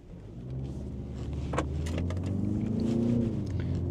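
2024 Genesis G70 and BMW 330i launching side by side in a drag race, with engine roar building steadily from a low rumble into a rising, sustained drone.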